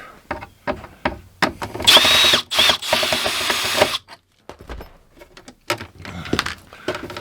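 A power drill backing out the screws that hold the converter in an RV, a few short bursts of whirring with pauses between them, close and loud amid light handling noises.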